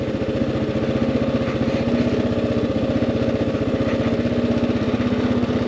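A KLR 650 motorcycle engine pulses steadily and loudly while riding, a close, even thumping drone with no talk.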